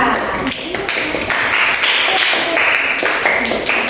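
Classroom participants clap for a presenting group during a school coaching session, brisk close handclaps and taps with scattered voices and chatter mixed in over the few seconds.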